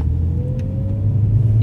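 A BMW E46 coupe engine rumbles steadily from inside the moving car, a low continuous drone with a faint rising whine, no voices.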